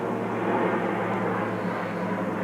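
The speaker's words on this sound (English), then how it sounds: "Plane overhead." A plane passes overhead above a garage, giving a steady, continuous low engine drone that holds level and fairly loud throughout with no talking.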